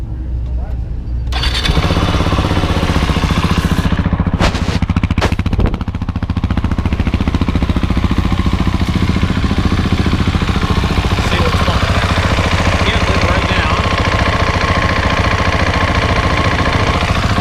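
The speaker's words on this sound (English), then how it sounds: "Let's go ahead and fire her up, see what we got." A 2019 KTM 690 Enduro R motorcycle engine cranks and fires after a short quiet start, then settles into a steady, loud, close idle that runs on with a few brief sharp bursts early.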